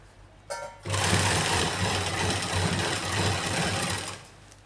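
A sewing machine runs steadily at close range, stitching a seam on the lining of a salwar, starting after a brief click and running for several seconds before stopping.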